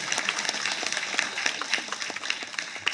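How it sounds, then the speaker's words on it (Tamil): An audience applauds at a film press meet, dense continuous clapping from a crowd at moderate distance, steady for several seconds. "தம்பிக்காக எல்லாரும் ஒரு ஜோராக கைத்தட்டியிருக்கேன்."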